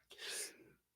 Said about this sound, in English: I sneezed twice.